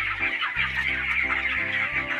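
Chickens on a poultry farm cluck steadily and close by, several birds overlapping in a continuous busy chorus.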